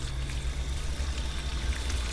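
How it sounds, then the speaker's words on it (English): Water pours steadily onto garden trees and tomato plants, a soft, continuous splashing trickle with a low rumbling undertone, fairly quiet and unbroken throughout. "So I'm trying to flush these trees out, get some water in them,"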